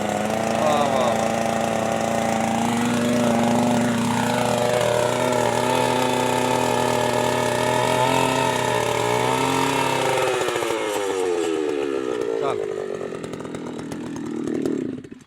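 Petrol engine of a machine running steadily with a loud continuous buzzing drone that rises and falls in pitch, then winds down near the end.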